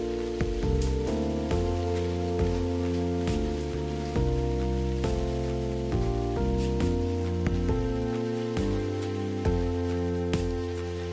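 Steady video game rain pattering on a surface, blended with a sustained musical tone throughout, continuous and moderately loud with no talking.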